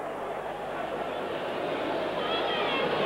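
Rugby league crowd at a Hunslet versus Wigan match grumbling in a low, continuous murmur at a missed knock-on, a distant, steady wash of crowd noise throughout.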